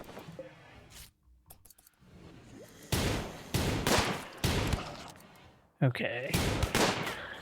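Gunshots from combat in the colony-survival game RimWorld: sharp bursts of loud shots come in irregular volleys, and one person speaks a single word briefly.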